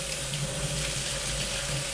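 Tap water runs steadily into a kitchen sink while quinoa is rinsed in it, a continuous close splashing rush with no one talking.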